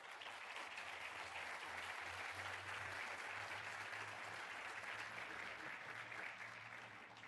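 A church congregation applauds together during a Spanish-language worship service, a steady, dense wash of clapping that holds evenly at full strength for about seven seconds with no talk over it.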